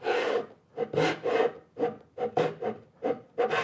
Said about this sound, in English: Now I'm going to go with a small tenon saw, dovetail saw here. Drop it into the groove.